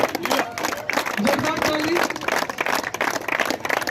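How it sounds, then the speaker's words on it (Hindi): A crowd at a sports festival bursts into loud clapping and cheering for a local hero, the clapping irregular and uneven in intensity, with voices mixed in. "इनके लिए जोरदार ताली।"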